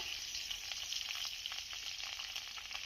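Green chilies sizzle in hot oil in a home kitchen, a steady, close, crackling fry with no talking.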